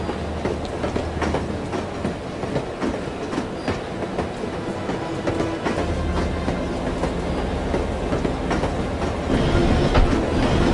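The video game No One Lives Forever gives a continuous ride aboard a moving train, a low rolling rumble with repeated wheel clacks and sharp metallic knocks, close-up, growing slightly louder near the end.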